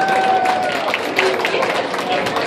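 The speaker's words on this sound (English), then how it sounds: "let's give a big round of applause" Crowd applause with clapping and cheering at a traditional Japanese New Year Fukuwarai game event, a steady dense wash of claps filling the whole stretch with voices mixed in.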